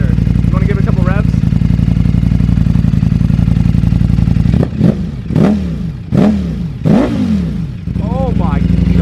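A 2020 Ducati Streetfighter with a full Akrapovic exhaust idles with a low, throaty pulse, then is revved in four sharp, loud blips that rise and fall back to idle, with brief voices heard over it.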